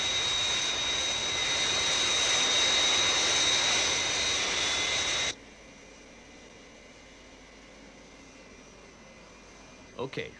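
Airliner flying after takeoff, a puppet-show sound effect: a loud, steady jet engine roar with high whine holds for about five seconds, then cuts off abruptly, leaving quiet hiss and a faint brief clatter at the end.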